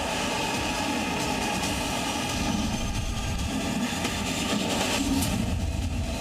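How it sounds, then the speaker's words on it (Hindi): Chinese fighter jets patrolling the sky over Taiwan, a steady, loud, broadband engine roar that fills the whole stretch without pause or voices. "चाइनीज फाइटर जेट ताइवान के आसमान में गश्त लगाने लगे।"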